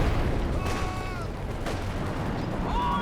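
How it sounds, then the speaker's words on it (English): Artillery fire from howitzers in Company of Heroes 2, heard as a couple of dull distant booms and crackling blasts over a steady battlefield rumble, with whistling tones drifting overhead. "The Howitzer are going to work as well."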